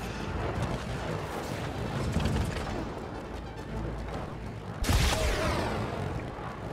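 A rocket strikes and explodes in the It Takes Two video game, a sharp loud burst rising out of continuous dense game noise and rumble, then ringing away.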